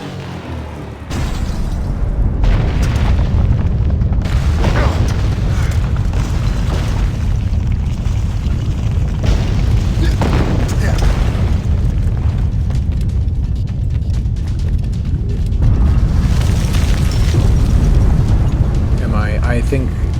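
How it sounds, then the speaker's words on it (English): Heavy rumbling booms and crashing destruction as the 1755 earthquake tears through a place in Assassin's Creed Rogue, loud and sustained, with a voice speaking over the chaos. "I think that we just destroyed this place. Oh yeah. This must be the earthquake of 1755."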